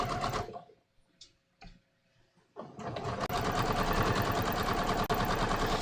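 A sewing machine stitches floral linen shorts, starting after a few brief taps and short bursts, then running as a steady, fast mechanical whir with a dense rapid clatter, close and loud, with no talking.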